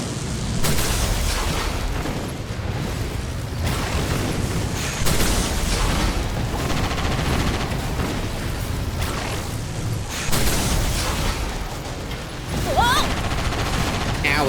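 Dense battlefield noise from the video game Sand Land: continuous bursts of gunfire and booming explosions, loud and close, layered over a constant roar with brief swells and dips and no clear talk.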